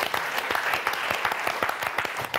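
Studio audience applauding on a French TV word game show, steady dense clapping throughout, loud and close, with no voices over it.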